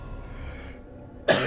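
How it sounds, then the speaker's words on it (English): A single sudden, harsh cough bursts out near the end after a quiet stretch of low background hum. "you have to excuse my coughing"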